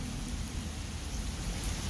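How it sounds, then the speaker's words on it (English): Steady rain falls outdoors at a tailgate in Texas, a continuous even hiss close by with no distinct pauses and no talking. "it didn't even start raining until after I got out here"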